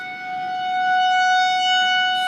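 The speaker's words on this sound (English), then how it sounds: "That white thing off in the distance, that is the tornado siren." A tornado warning siren in Gurley, Alabama wails steadily from a distance, a sustained rising-and-holding tone with layered harmonics, loud and continuous with no talking.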